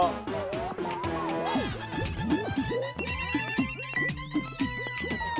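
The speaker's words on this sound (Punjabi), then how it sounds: "ਸਭ ਤੋਂ ਪਹਿਲਾ ਫੋਨ ਭੱਲਾ ਅੰਕਲ ਨੂੰ ਹੀ ਲਾਉਂਦੇ ਆ।" A telephone rings in an animated Punjabi cartoon, with a busy electronic ringtone melody of repeated chirping tones sounding steadily under background music.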